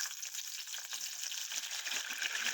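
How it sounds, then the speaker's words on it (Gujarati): Eggplant slices fry in hot oil, giving a soft, steady crackling sizzle with small popping bursts throughout, heard close and alone. "આપણે રીંગણાને કટ કરીને આપણે એને તેલમાં થોડાક બોઇલ કરીને તળી લઈશું"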